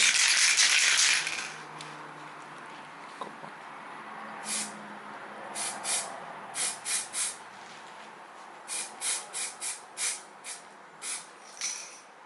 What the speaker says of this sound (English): so just spray quite the whole part of it.